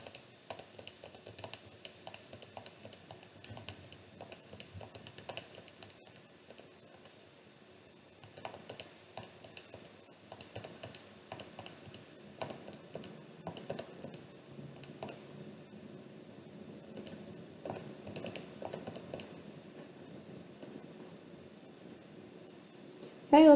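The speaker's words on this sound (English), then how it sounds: "I'm typing in tree height in my L1 and number of ornaments in my L2." Data entered into a calculator's lists produces soft, irregular key clicks and taps, faint and spread across the whole stretch with light background noise.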